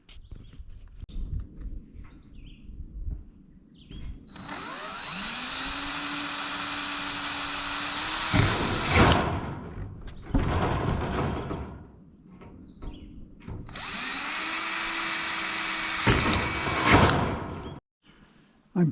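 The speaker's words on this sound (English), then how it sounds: "I'm pre-drilling the holes before I put it up there. Makes it just a little easier to start the screw." A power drill whines as it pre-drills screw holes in wood, two long high-pitched runs of several seconds each with the motor revving and slowing, close and loud.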